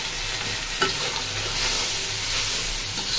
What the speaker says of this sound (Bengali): পেঁয়াজটা একটু ভাজা ভাজা হয়ে আসছে